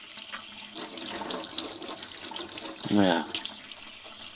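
Water runs from a tap into a sink in a dining area, a steady near splashing flow with a brief rising gurgle of filling, while a person speaks briefly.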